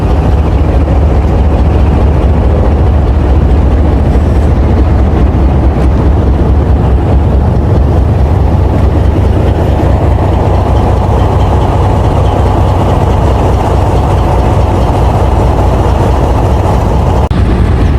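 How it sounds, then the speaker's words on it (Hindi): A Pakistan Railways down train approaches in rainy weather, a loud, steady low engine rumble with continuous rolling noise filling the whole stretch, no voices over it. "तो दोस्तों ये कोई डाउन ट्रेन आ रही है।"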